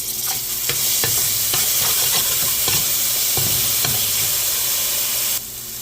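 Peas frying in a pan with crushed garlic and shadow benny, stirred with repeated scraping strokes over a steady, close, loud sizzle that cuts off abruptly near the end.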